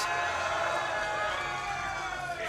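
An esports crowd at a StarCraft II match in Sydney cheers and roars continuously, a dense wash of voices filling the hall.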